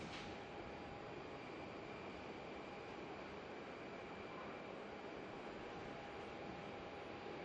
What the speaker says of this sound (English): Thought I could hear a plane.